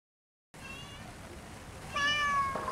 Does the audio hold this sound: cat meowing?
yes